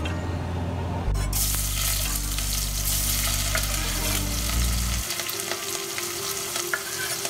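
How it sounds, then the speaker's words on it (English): Pieces of cow skin meat land in hot oil in a pan and set off a loud, steady, close sizzle and crackle that continues after a low background hum stops partway through. "just so I can cook this in the oil over here, yeah, in the pan"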